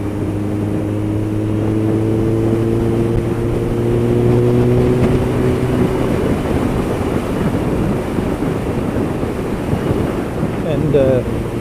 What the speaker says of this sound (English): It has a Yoshi exhaust, which sounds amazing.